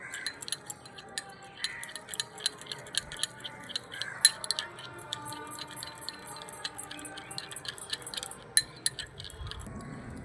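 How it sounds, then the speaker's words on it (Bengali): A spoon clinks and scrapes against a bowl while lemon juice is mixed into sugar, with soft irregular taps and light metallic chinks repeating up close. "চিনির মধ্যে লেবু রস দিয়ে আমি ভালো করে মিশিয়ে নিয়েছি।"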